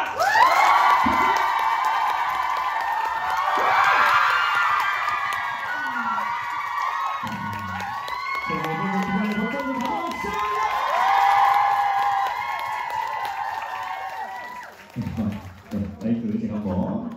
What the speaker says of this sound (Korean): 오늘의 팬미팅 이전님을 박수와 함성으로 모십니다